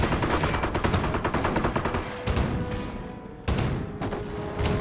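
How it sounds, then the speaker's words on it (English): Sustained machine gun fire from an MG gunner in the Company of Heroes World War II strategy game, rapid dense bursts with sharp louder volleys breaking in periodically, steady and close throughout with no voices. "MG gunner up and firing."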